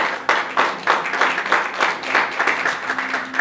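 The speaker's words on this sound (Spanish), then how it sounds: "Dale un fuerte aplauso a mi hija, por favor." A church congregation applauding, a steady dense patter of many hands clapping at moderate distance for a few seconds, filling the room without any voices on top.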